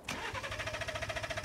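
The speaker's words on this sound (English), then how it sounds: "You think this thing's gonna start, Brad?" A Ford truck engine cranks in cold winter weather, a rapid even chugging of the starter that stays steady and close throughout, with no voices over it.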